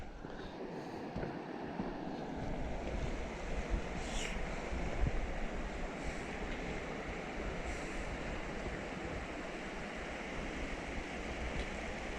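The Seasesh River flows low after its raging season, a soft, steady wash of water at a distance, faint and unbroken with a little wind, no voices.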